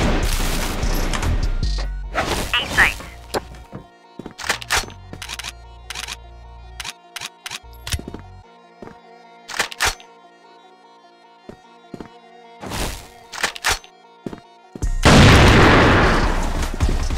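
Grenade explosions in the video game CrossFire land as several loud, sharp blasts and crashes. Sparse clicks and thuds fill the gaps, and a heavy boom closes the sequence.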